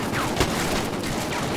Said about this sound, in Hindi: हमारे को गोलियां लग रही हैं।